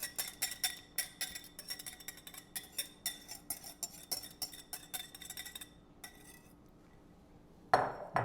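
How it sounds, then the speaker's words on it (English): Pancake batter ingredients being combined in a mixing bowl, with a rapid run of clinking utensil strikes against the bowl, steady and close for several seconds, then quiet and a final louder knock. "now we're just going to combine our wet and our dry ingredients"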